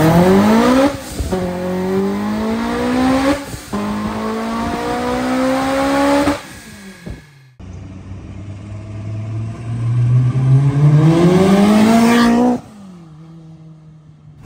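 Honda S2000 fitted with a lightweight single exhaust, revved repeatedly outside a building: rising engine pulls climbing in pitch, dropping back to idle between, loud and close with no talk.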